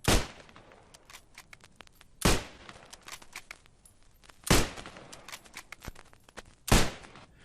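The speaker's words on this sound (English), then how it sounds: "Watch as this soldier uses the Springfield rifle. He has a single, bolt-action firing rate." Springfield bolt-action rifle firing in the WW2 game Post Scriptum: four loud single shots spaced about two seconds apart, with faint clicks and handling noises between them.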